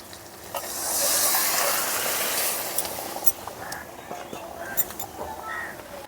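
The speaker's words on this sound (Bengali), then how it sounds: "এখন সেদ্ধ করা ডালটা এর মধ্যে দিয়ে দিব।" Boiled moong dal pours into a pan of katla fish head frying with spices, giving a loud sizzling hiss in the first few seconds that fades to a softer simmer with faint clinks.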